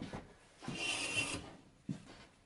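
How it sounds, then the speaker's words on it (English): A hand saw rips through a thick workbench timber to take off a veneer-thick slice, giving a rasping, scraping stroke that swells in the middle of the clip and returns as a shorter push near the end, close and fairly quiet. "I chose to spend some extra time sawing away the material here instead of planing"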